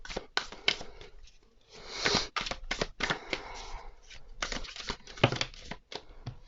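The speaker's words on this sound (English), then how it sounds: "let's get to shuffling and see what this last week of the year has in store for us" Tarot cards are shuffled by hand in a quiet room, a run of quick papery riffles and soft slaps, close and crisp, coming in uneven bursts with short pauses between.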